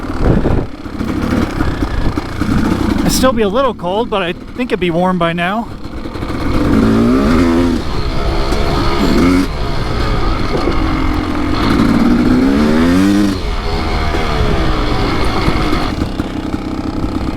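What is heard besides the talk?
Kawasaki dirt bike engine running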